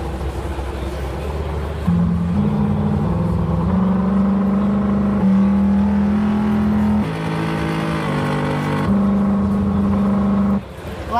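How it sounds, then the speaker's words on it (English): A video game car engine, driven by RPM-based onload and offload tracks, drones and revs steadily, its pitch stepping up and down in sustained, loud tones throughout without pause. "we have an onload and an offload track for our car engine"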